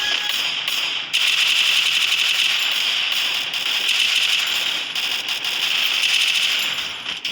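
Gunfire in a shooting video game, with rapid bursts of crackling shots that come and go in quick clusters over a steady bright game background.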